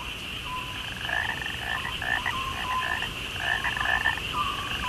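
Frogs croak in a steady outdoor chorus, with repeated raspy calls pulsing in irregular bursts over a constant high insect-like drone, close and moderately loud, with no voices.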